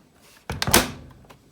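A washing machine door thuds shut, a Hotpoint or Miele front-loader, with a few close, loud knocks and a short decaying rattle, then a faint click.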